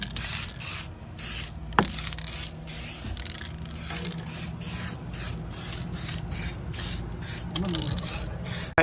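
Amsoil HD Metal Protector rust undercoating sprayed from a can onto a car's underside in repeated short hissing bursts with a steady rhythm, close up, with faint mechanical clicks and brief speech in the background.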